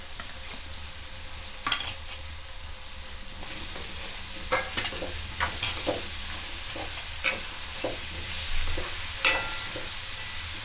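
Potatoes added to a pan of frying peas for a home-style aloo matar sabji, with continuous close sizzling and repeated sharp stirring scrapes and clinks of a spoon against the pan.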